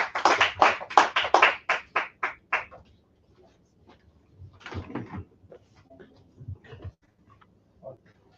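Applause from a small audience greeting a dental hygienist at a health awareness talk: a short burst of claps for about three seconds, thinning out, then quiet shuffling and faint voices.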